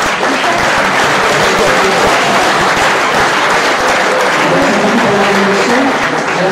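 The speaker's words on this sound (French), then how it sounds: "J'aimerais qu'on applaudisse une fois de plus Théo." Loud, sustained audience applause at a startup pitch event in Carcassonne, a dense wash of many hands clapping that runs unbroken from start to finish with no talking over it.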